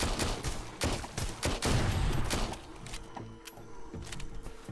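Rapid bursts of gunfire from zombie horde mode in the VR shooter Arizona Sunshine, loud clustered shots in quick irregular volleys that thin out toward the end.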